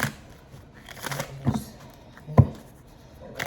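Tarot cards are shuffled by hand in a few soft rustling bursts with sharper riffle snaps near the middle, close and fairly quiet, amid light background noise.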